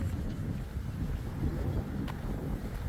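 Wind blowing hard on the coast at Prestatyn beside a golf course, a continuous low roaring rumble buffeting the microphone with gusty surges throughout.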